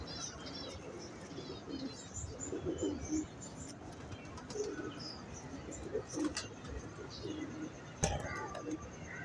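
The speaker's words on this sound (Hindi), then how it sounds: "ये भी ये चौसा वाले कबूतर जी हैं।" Chausa-type pigeons coo softly in a loft, with repeated low throaty calls and scattered chirps against faint background rustle.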